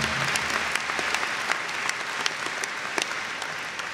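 A commencement audience breaks into applause during a speech, a dense crowd of clapping hands sustained steadily throughout with a few sharper individual claps standing out.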